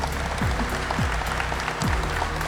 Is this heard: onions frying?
no